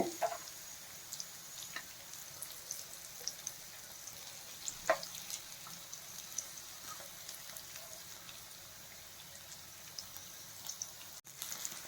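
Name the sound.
okra (lady finger) frying in a pan on low flame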